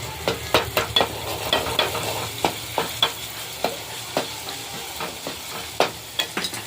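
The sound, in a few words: spices sizzling in hot oil tempering for samosa filling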